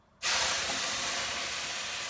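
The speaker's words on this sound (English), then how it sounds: "water into the rocks to create steam" Steam hisses loudly and suddenly as water is poured onto hot rocks in an oven during bread baking, a broad rushing burst that starts abruptly and holds steady, slowly easing, with no talking.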